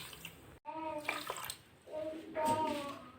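Water is poured into a pot holding sugarcane jaggery and sugar in a kitchen, making a quiet, near gurgling splash in two short bursts with a brief gap between them.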